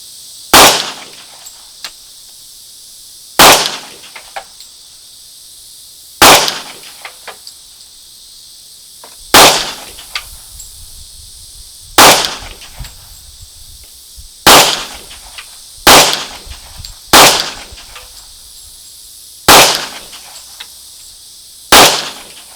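Pistol shots from a handgun fitted with a Vortex Venom red dot sight, about ten sharp loud reports spaced irregularly a second or few apart, each with a short ringing tail, outdoors.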